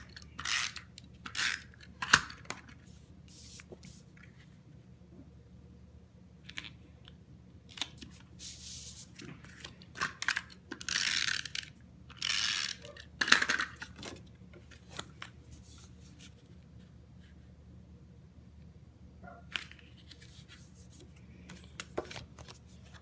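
A Stampin' Up snail adhesive runner on cardstock for a handmade Halloween card gives scattered bursts of rasping, ripping sound and small clicks close by, spread between quiet pauses and with no speech.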